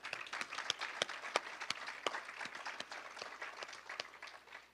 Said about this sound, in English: So I want to applaud all of you.